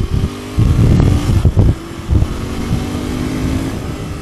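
A Royal Enfield Continental GT 650 motorcycle accelerates in first gear on a street run, its twin-cylinder engine revving loudly in rough bursts before settling to a steady drone.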